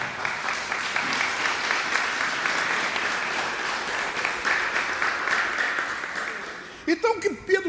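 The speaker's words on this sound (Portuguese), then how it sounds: "Quem crê diz amém, dá um aplauso a Ele." A church congregation applauds in a long, steady wave of clapping, then a voice starts speaking as the applause dies away at the end.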